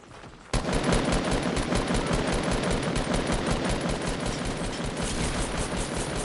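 Sustained rapid automatic gunfire in the Fortnite video game, bursting in abruptly after a quiet half-second and then rattling on loud and dense without a break.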